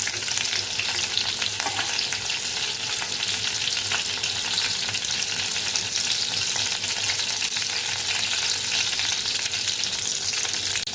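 Green chilies and curry leaves sizzle loudly in hot oil for kanda pohe, a constant close-up crackle and hiss that runs unbroken the whole time without any voices.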